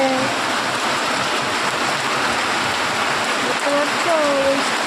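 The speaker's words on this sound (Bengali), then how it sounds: "দেখো কি বৃষ্টি পড়ছে" Steady rain pours down throughout, a dense continuous hiss of falling water close by, with a few faint tonal chirps near the end.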